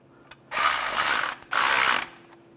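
A hand ratchet clicks rapidly in two long bursts, loud and close, tightening clutch bolts in sequence on a 2005-2010 Chevrolet Cobalt, with short pauses between runs.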